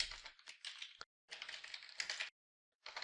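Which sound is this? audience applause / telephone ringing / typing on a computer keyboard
typing on a computer keyboard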